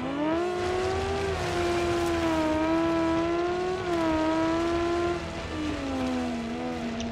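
A BeamNG.drive rally car engine drones loudly and continuously, its pitch rising and dipping with throttle as a turbo spools, heard alone without talk.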